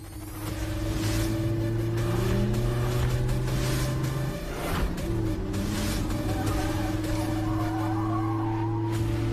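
Several large cars roll in together, a steady loud engine drone with low hum and tire noise filling the whole stretch, no voices over it.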